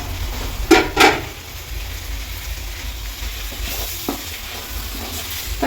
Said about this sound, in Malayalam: വെട്ടി നുറുക്കി തക്കാളി ഇടുന്നു.